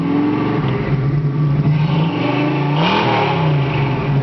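A 1966 Ford Mustang convertible idles with a smooth, steady exhaust burble, then blips the throttle into a brief rising rev before settling back, heard up close with no talking.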